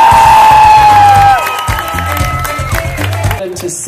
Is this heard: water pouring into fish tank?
no